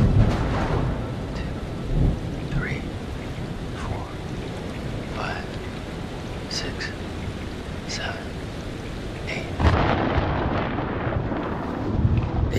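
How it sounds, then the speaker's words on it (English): A thunderstorm in the video game Man of Medan, with rain hissing steadily and low rolling thunder rumbling beneath, while people talk over it in bursts. "Storm's 8 miles away."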